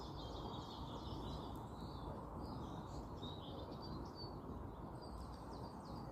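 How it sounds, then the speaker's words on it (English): Wild birds chirp and sing in a hiking area, with thin high calls scattered over a steady, loud broadband rush of wind or water that largely masks them. "I stopped in an area where there's more bird sounds."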